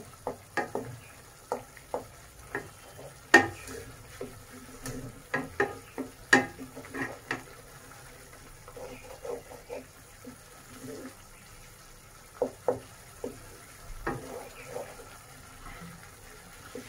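Onions sautéing in salted oil in a pan for a Bengali bhola fish curry, a soft sizzle punctuated by frequent sharp spatula knocks and scrapes in bursts, close and moderately loud.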